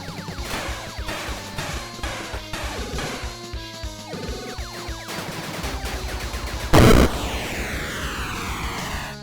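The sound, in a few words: many enemies exploding at once in the video game Gravity Storm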